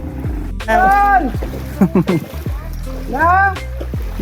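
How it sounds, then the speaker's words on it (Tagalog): Jet ski running in deep flood water with its exhaust submerged gives a steady low drone beneath loud shouting voices throughout. "Jet ski. Okay, so matibay talaga. Lubog na yung tambutso niya pero ganun pa rin."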